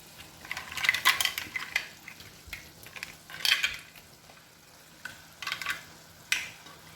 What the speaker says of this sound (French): Et je vais tourner mes mejillones.